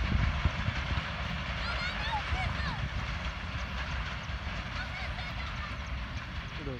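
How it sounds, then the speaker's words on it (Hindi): The Millat Express passenger train rolls past on its way toward Karachi, a steady roaring rumble with faint rattling and squealing on top, sustained for several seconds at moderate distance, with a voice likely present under the noise. "मिल्लत एक्सप्रेस तो गुजर चुकी है आगे अपने जर्नी को कंटिन्यू करने के लिए कराची की तरफ"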